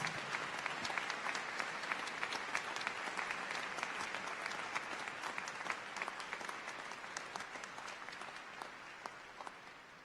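Sustained applause from a large audience at a high school graduation ceremony, steady dense clapping lasting throughout at moderate distance with no speech over it.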